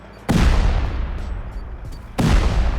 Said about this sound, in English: So it makes a cool little explosion thingy. It breaks up into separate parts.